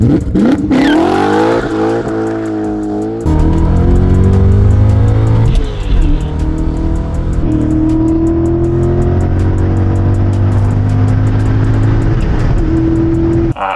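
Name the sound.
2003 BMW M5 E39 with S62 5-liter V8 engine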